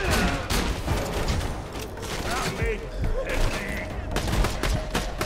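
Sustained rapid gunfire from Borderlands 2 rattles on continuously with thumps and booms mixed in, while people talk over the shooting.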